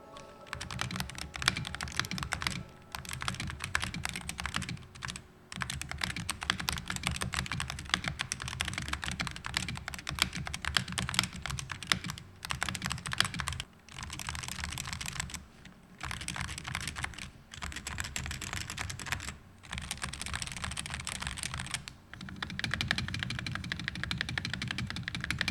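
Dareu EK75RT Hall effect keyboard with foam layers and a silicone pad, typed on continuously in quick bursts of clacky keystrokes, close up, broken by brief pauses, with no speech.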